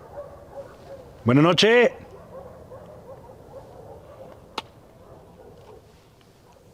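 Dogs bark and yelp in a short loud burst at night, a couple of sharp harmonic cries lasting under a second, followed by quieter background and a single click, with a brief spoken greeting in the clip.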